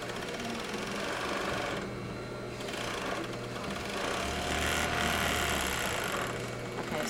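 A five-thread serger overlock machine stitches a skirt side seam with a loud continuous motor hum and rapid needle chatter, briefly pausing and restarting as the fabric is adjusted.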